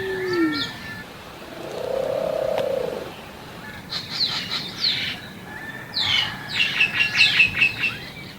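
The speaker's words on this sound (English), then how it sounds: "And then there's the cheeky minor birds everywhere" Myna birds call outdoors on a tropical island, a mix of whistles, squawks and chattering bursts at moderate distance over steady background ambience.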